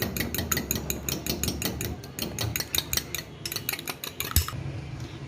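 A utensil stirs chicken with salt and black pepper in a bowl, with rapid, irregular clinks and scrapes repeating for several seconds, close and distinct with no talking.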